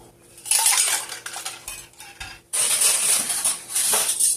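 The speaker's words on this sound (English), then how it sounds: "And then I'll put the lids and rims in here as well." Metal canning jar lids and rims dropped into a pot for water bath canning pineapple, giving two bursts of bright clattering and jingling close by, with a brief lull between them.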